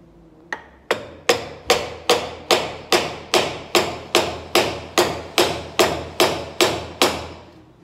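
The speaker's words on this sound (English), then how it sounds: "So I'll use a piece of wood and a hammer." A hammer pounds a wooden block in a steady, even rhythm while reassembling a Thwaites dumper clutch, about fifteen solid knocks close by, each with a hard, woody thud.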